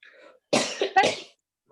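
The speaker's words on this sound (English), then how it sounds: "I was coughing, not sneezing." A person gives a sharp cough, two bursts close together, near and fairly loud, with quieter breathy sounds before and a short noise at the end.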